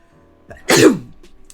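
A single sharp sneeze bursts out close by, preceded by a short intake of breath, in an otherwise quiet moment.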